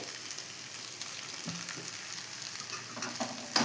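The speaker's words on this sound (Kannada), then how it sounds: "ಎಲ್ಲನೂ ಹಾಕಿ ಚೆನ್ನಾಗಿ ಫ್ರೈ ಮಾಡ್ಕೊಳ್ಳೋಣ" Coriander powder, turmeric and other spice powders sizzle and fry in a pan for bitter gourd gojju, a steady close crackle with a few scraping stirs and no voices.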